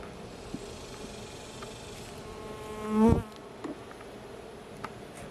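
Honeybees buzz steadily at a hive opened for a mid-July inspection, a soft continuous drone with one louder, nearer bee sweeping past midway.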